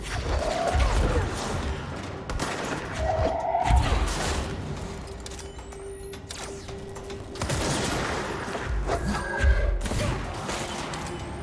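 Bursts of gunfire from a gun in the video game Control, heavy rapid volleys with booming impacts and crashes that recur across the scene, loud and close, with no talk.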